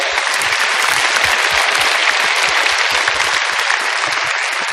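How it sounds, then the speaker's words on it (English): A large convention crowd at a Star Wars Celebration panel in Orlando bursts into loud, dense applause that holds steady and close for several seconds. "Let's give him a round of applause."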